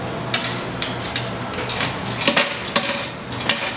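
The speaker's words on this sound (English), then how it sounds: "we're dropping off our keys to our place right now" Apartment keys without a key ring dropped into a drop box, giving a series of bright metallic clinks and clatters spread across a few seconds, fairly close and with no talking.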